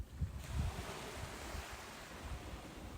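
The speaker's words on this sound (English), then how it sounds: "The waves roll gently toward the shore, then quietly away again." Ocean waves roll gently onto the shore near the Tybee Island lighthouse, a soft continuous wash with a couple of low surges early on, mixed with light wind noise and no voices.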